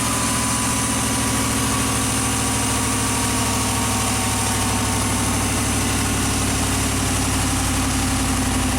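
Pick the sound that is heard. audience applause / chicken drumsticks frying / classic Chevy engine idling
classic Chevy engine idling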